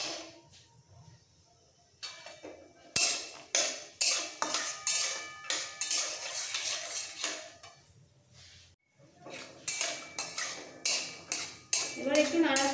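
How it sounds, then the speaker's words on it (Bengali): Raw peanuts in hot refined oil in a wok, turned with a metal utensil that gives loud, close, repeated clanks and scrapes in quick bursts, with a short pause partway through. "সবার আগে কাঁচা বাদামটা ভেজে তুলে নেব।"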